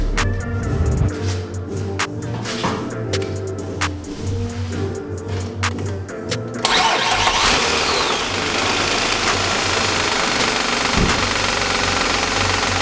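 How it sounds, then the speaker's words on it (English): A car engine cranking with a portable 2-in-1 battery charger used as a jump starter, a rhythmic churning for several seconds before it catches and settles into a loud, steady running roar, close by with no talk. "that thing cranked over, but let's try it one more time"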